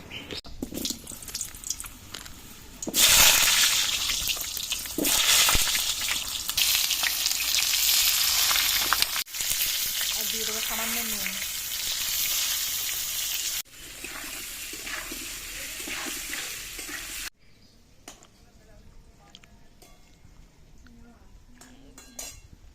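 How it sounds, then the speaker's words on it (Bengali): Potatoes fry in hot oil with a loud, bright sizzle that bursts in suddenly, then softens and finally drops off to quiet kitchen clinks and faint bubbling near the end. "তেল গরম হয়ে গেছে এবার আলুগুলো ভেজে নেবো"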